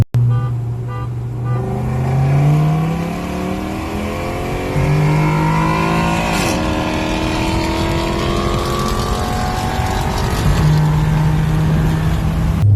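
A Stage 3 turbocharged Audi racing a stock 2015 Ford Mustang GT, loud engines revving and accelerating hard through gear changes with rising and falling pitch, a continuous close roar with no talk.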